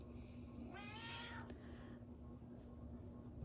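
A cat in a quiet room gives a single short meow partway through, soft and slightly distant, over a low electrical hum.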